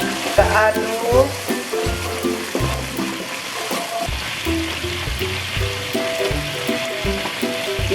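Chili sauce sizzles loudly in a hot frying pan while being stirred, with bursts of crackling frying and scraping stir strokes repeating in an uneven rhythm; no talking.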